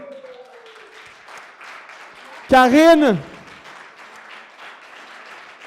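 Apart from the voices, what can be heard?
audience applause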